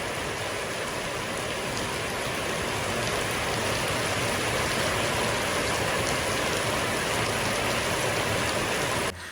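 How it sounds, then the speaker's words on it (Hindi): Heavy monsoon rain in a mountain village pours steadily and loudly, a dense continuous roar of drops with no voices, then cuts off abruptly at the end. "मगर आज की बारिश कल से भी ज़्यादा शदीद है।"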